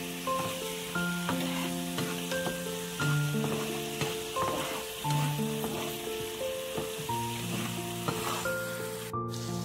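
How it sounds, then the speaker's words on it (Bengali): Spice masala for a hilsa curry fries in a pan over low to medium heat, a continuous close sizzle with scraping stirs and clinks running throughout. "এটা ভালো করে আমি কষিয়ে নেব।"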